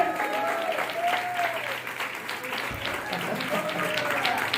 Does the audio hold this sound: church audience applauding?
yes